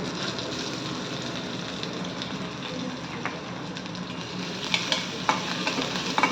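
Ginger garlic paste and whole spices sautéing in a pan: a dense, steady sizzle fills the space close up, with a few sharper spatula taps and scrapes toward the end and no voices.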